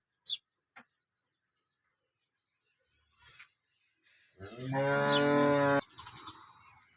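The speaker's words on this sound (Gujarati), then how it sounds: "અને આ બંને ગાયો છે" A cow gives one loud, sustained moo near the microphone at a dairy during milking, after a few faint scattered sounds and brief bird chirps in an otherwise quiet barn.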